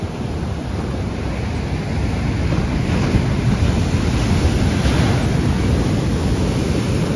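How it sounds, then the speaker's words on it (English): Sea swell rolling in and breaking on a rocky shore near a castle on a fishing coast, a steady surging wash with rising and falling swells, mixed with wind buffeting the microphone, no voices. "There's a canny swell coming in."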